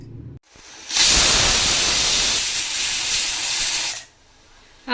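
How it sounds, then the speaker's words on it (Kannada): A pressure cooker cooking chickpeas lets off one loud, close steam whistle, a hissing blast of about three seconds that starts and stops abruptly. "ಇದು ಇವಾಗ 3 ವಿಷಲ್ ಆಯಿತು, ನಾನು ಆಫ್ ಮಾಡ್ತಾ ಇದ್ದೀನಿ."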